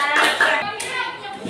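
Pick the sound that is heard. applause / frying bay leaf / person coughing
applause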